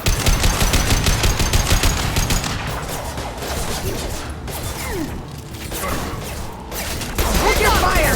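Sustained rapid automatic gunfire in a Mass Effect 2 combat fight, loud and close, with dense bursts of shots that ease briefly in the middle before resuming at full intensity.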